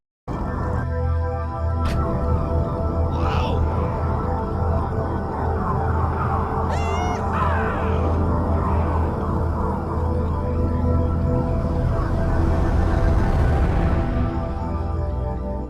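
A soundtrack piece from the video game Halo: Combat Evolved plays steadily as a sustained, atmospheric wash with soft tonal swells and occasional brief shimmering accents, no voices.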